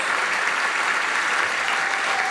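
An audience applauds the staff of GoSo, a thick, continuous burst of clapping from a large crowd, loud and sustained throughout.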